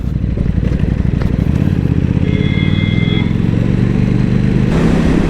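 A KTM RC8R V2 superbike engine runs loud and close with a rough, clattering throb, idling then rising slightly, steady for the whole stretch with no talk.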